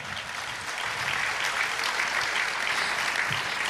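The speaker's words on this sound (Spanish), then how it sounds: "Denle un aplauso al Señor." A church congregation applauds in praise during a Spanish-language sermon on healthy families, a dense, steady wash of clapping that carries on evenly throughout.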